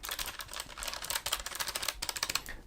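Rapid, crisp typing on an MSI Vigor GK50 low-profile keyboard with clicky white switches, a close dense stream of sharp clicks without talk.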